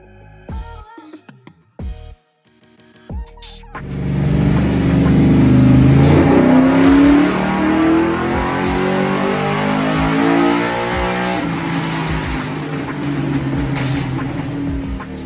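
An LS V8 fitted with a FAST LSX HR intake manifold roars on a dyno: a few short clicks and blips give way to a loud, sustained wide-open rev that climbs and holds for over ten seconds, close and overwhelming.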